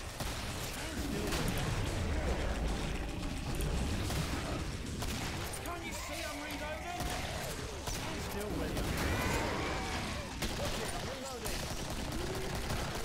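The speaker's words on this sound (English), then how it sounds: "Just keep shooting." Gunfire in the co-op shooter game Killing Floor, dense continuous bursts of shots and mechanical clatter filling the whole stretch, loud and busy, with players talking over it.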